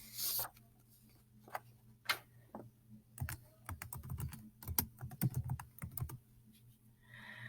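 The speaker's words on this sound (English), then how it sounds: "Let's type in a basic search and see what we have." A library catalog search is typed on a computer keyboard, with sparse clicks at first and then a quicker run of close, quiet keystrokes.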